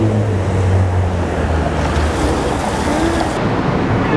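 Outdoor wind blows hard into the microphone, a constant loud rushing roar that fills the whole stretch without a break.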